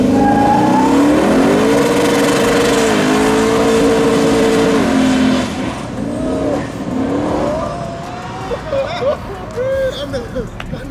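A custom 800-horsepower twin-turbo Chevelle SS on 22-inch wheels revving hard and accelerating, loud rising and falling engine sweeps close by, then receding passes with voices talking in the latter half.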